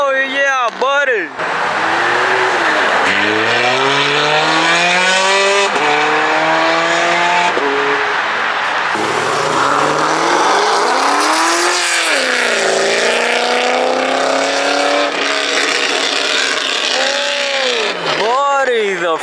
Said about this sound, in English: the freaking burble tune on that vet